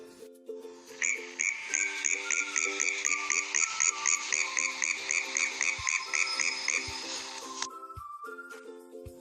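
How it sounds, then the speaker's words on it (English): A frog croaks in a fast, steady run of rhythmic pulsing calls, loud and close, as a lower repeated tone sounds beneath it. A single croak follows near the end. "This is frog's sound. And this sound is called croaks."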